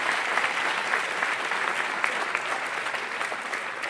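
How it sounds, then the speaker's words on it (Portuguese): Dense, steady applause from a church congregation during a sermon, many hands clapping together at a strong, even level for several seconds. "Vamos aplaudir o Senhor aí?"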